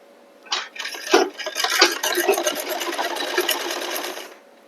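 A sewing machine stitches a belted blouse, starting with a few short bursts and then running into a steady, rapid mechanical clatter close by before stopping.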